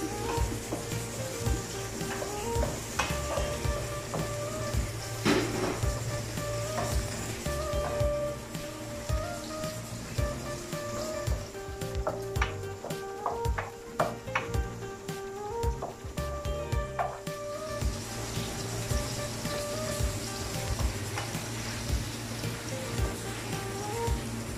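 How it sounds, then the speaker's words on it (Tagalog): Garlic frying in a pan until golden brown for Tinulang Manok, a dense, steady crackling sizzle with small pops that continues unbroken and fairly loud throughout, with no talking. "Kailan po natin maluto ang bawang hanggang mag-golden brown po siya."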